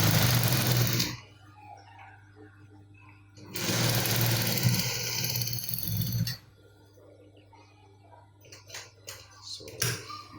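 A sewing machine stitches the back pocket of a pair of trousers in two loud runs, each lasting a few seconds, with quieter pauses and small clicks between them.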